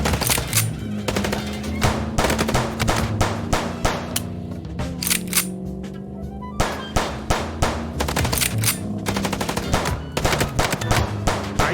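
Rapid bursts of video-game gunfire from Chicken Police ring out almost continuously, loud and close, with sharp repeated shots in dense volleys and a brief lull near the middle before the shooting resumes.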